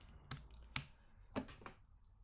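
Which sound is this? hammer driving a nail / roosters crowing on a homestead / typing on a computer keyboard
typing on a computer keyboard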